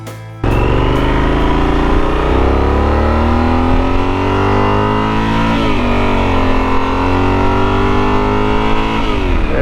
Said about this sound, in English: once I put the Yoshimura pipe on here, the bike finally sounds like how it feels